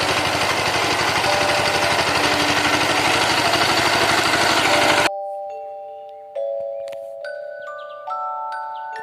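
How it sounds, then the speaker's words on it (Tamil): A tractor engine ploughing a field chugs loudly and steadily for about five seconds, then cuts off abruptly and gives way to a string of clear ringing electronic tones. "இப்போ தான் உழுதுகிட்டு இருக்கோம்."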